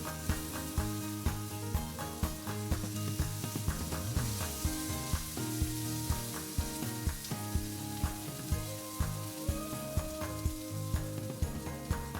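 Mawa cooks with grated carrots for gajar ka halwa in a hot pan, a steady close sizzle broken by regular scrapes of stirring, with a faint tonal hum underneath.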